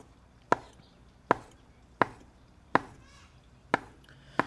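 A knife cuts rolled homemade noodle dough into quarter-inch slices, six crisp, evenly spaced chops against a board, close and clear with quiet between strokes.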